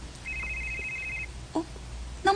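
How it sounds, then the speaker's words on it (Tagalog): A cellphone rings with a short electronic tone, faint at first and followed by a brief louder chirp near the end; no talking. "Niring ang cellphone?"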